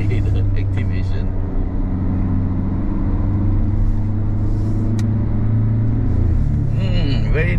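Peugeot Landtrek 4x4 pickup with a 1.9 engine climbing a steep mountain road in third gear, stability and traction control off; a steady, loud engine drone with low rumble persists throughout, with someone talking over it.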